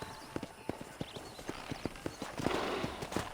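Horse hooves clip-clopping in a steady galloping rhythm in the game Red Dead Redemption, close and distinct, with a brief whinny and faint game voices in the background.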